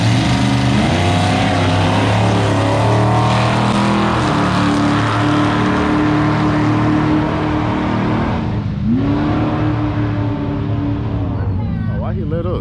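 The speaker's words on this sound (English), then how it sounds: "got a single pass coming here on the Olds Cutlass" An Oldsmobile Cutlass makes a single drag strip pass at a cars and coffee event, its loud engine droning steadily throughout with harmonic tones rising and dipping as it runs. Crowd noise and talk sit beneath it.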